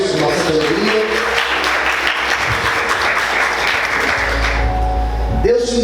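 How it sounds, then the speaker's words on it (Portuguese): A church congregation applauding during a worship service, loud dense clapping filling the room, with a voice and low musical tones rising near the end. "Vamos glorificar e aplaudir Jesus com nossa alegria."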